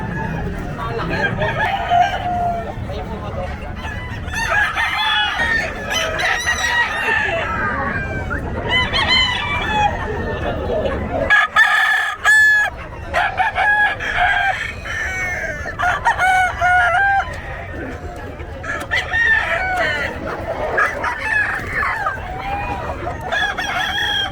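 Fighting roosters at the Bocaue pet market crow repeatedly in loud, overlapping calls with scattered clucking, set against a busy market din and people talking nearby.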